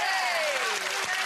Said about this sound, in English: So a little clap for Linda.